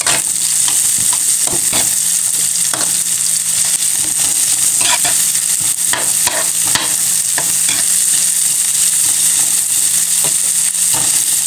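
Eggplant and onions sauté in a home-cooking pan with a steady, loud sizzle, broken by repeated scrapes and clicks of a spatula stirring the vegetables close by. No one speaks.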